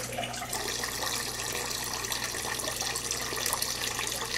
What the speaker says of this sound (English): So now we're just adding the water back that they dehydrated out of it to make it regular juice